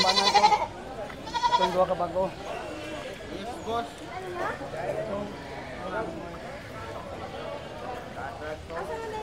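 Goats bleat repeatedly at a livestock stockyard in Canlaon, with loud nasal calls from several animals up close, over crowd murmur and yard noise; someone talks throughout.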